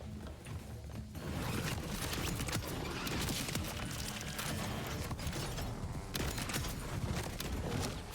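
Dense, rapid gunfire fills a Borderlands 4 firefight, with loud, continuous shooting and brief pauses between bursts over several seconds.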